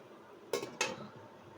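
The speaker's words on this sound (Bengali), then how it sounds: "গাইস, আমরা 10 মিনিটের জন্য একটু ঢাকা দিয়ে রাখবো।" A metal lid set onto a cooking pot while making kala bhuna: two quick clinks in close succession, near and distinct over a low kitchen background.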